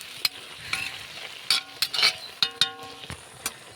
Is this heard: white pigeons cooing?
no